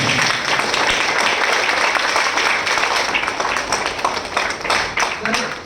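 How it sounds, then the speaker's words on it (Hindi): An audience at a business promotion event bursts into dense, sustained clapping that stays loud and continuous, with crowd murmur mixed in. "बस बिग हैंड जोरदार ताली चाहूंगा"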